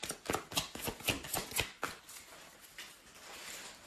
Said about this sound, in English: trying to get into a, a plastic bag right now, one of my shopping bags